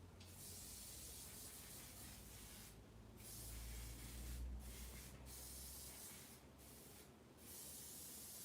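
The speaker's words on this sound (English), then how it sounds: "I'm just going to really quickly go and spray this" An aerosol spray can applies fixative to a coloured page in steady, close hissing bursts, broken by a few short pauses between passes, with no talking.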